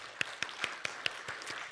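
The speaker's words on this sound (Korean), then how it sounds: "참 수고하고 있는 이 미디어 홍보부원들에게 다시 한번 격려의 박수" A church congregation claps for the media team in an even, quick rhythm of sharp claps, faint and somewhat distant, with no talking.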